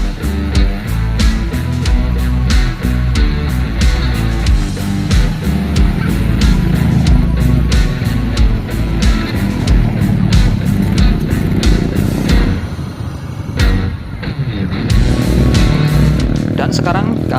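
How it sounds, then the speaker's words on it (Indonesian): A vehicle drives across the Bromo sand sea with a continuous loud engine drone and rough, rumbling motion noise, close and steady throughout, with a voice talking over it. "kami memacu kendaraan di tengah lautan pasir"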